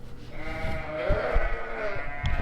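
Sheep bleat loudly and close in a barn pen during a deep winter freeze, one drawn-out wavering call with low shuffling and thumps beneath it, then a shorter call at the end.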